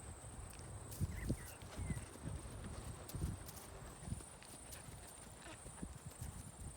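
An off-the-track thoroughbred mare is ridden in flatwork during show horse training, her hooves thudding in a soft, regular rhythm. The footfalls are faint and a little distant over a quiet background hiss.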